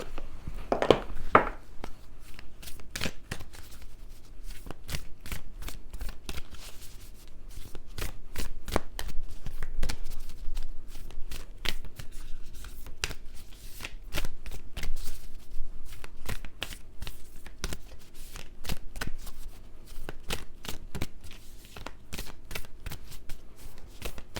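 Moon tarot cards are shuffled continuously at close range, with a long run of quick crisp riffles and flicks that sound in an uneven rhythm and with no talking.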